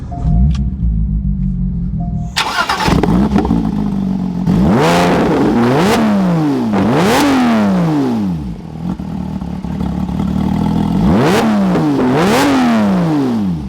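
A Porsche 911 GT3 of the 991 generation cranks and fires up, then its engine revs hard several times, each sharp, loud rise and fall echoing close by before settling to idle between blips.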